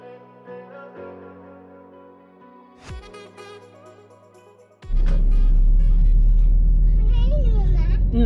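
A car's engine rumble kicks in loudly midway and holds steady, with a voice and music-like tones heard before and over it.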